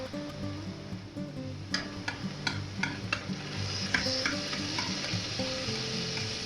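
Two tablespoons of garlic frying in butter in a pan, a steady close sizzle with sharp ticks of a utensil stirring and scraping at irregular intervals, no talking.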